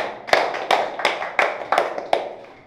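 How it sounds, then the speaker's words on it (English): Classroom applauding a student, a sparse set of about seven distinct, evenly spaced claps from a small group, sharp and close with short decays between them. "A round of applause for her."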